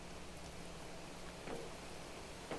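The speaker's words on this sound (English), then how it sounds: "And it's raining again." Steady rain in the video game Planet Crafter, a constant soft hiss filling the background with a couple of faint drip-like ticks and no talking.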